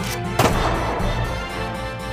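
A single sharp cartoon gunshot bang bursts out near the start in a SpongeBob episode set in a cave hideout, followed by a dull lingering rumble, with no voices.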